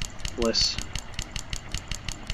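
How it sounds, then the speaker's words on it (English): A clicky computer mouse taps out rapid, evenly spaced clicks throughout, quiet and close, while a person briefly speaks over it. "Sorry for the clicking noise."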